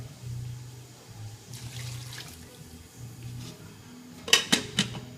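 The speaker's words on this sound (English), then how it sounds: "Add just enough water to cover it up." Water is poured into a pan over string beans and cauliflower in a home kitchen, a soft running splash with low hum, ending in a few sharp clinks of pan and utensil.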